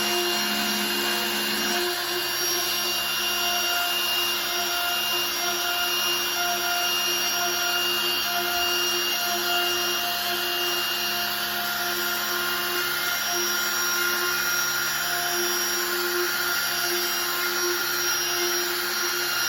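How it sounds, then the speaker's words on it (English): Continuous abrasive whir of a power sander working over a wooden stool, steady and close for the whole stretch with no speech. "And sand the rest."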